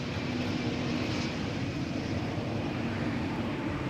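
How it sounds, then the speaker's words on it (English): Airbus A220 landing at Amsterdam Schiphol without reverse thrust, a steady broad jet engine roar that holds even and unbroken throughout at moderate distance, with no voices. "A220 up next, arriving from Toulouse with nothing to lose but the landing."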